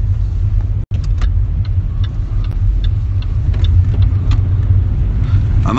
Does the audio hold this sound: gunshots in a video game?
no